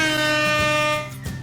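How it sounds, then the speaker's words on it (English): A storybook sound effect of a rusty tow truck's horn blares once, loud and close. It is a sustained, brassy honk that fades out after about a second. "The rusty tow truck quietly snuck up on two sleeping tractors and honked his horn."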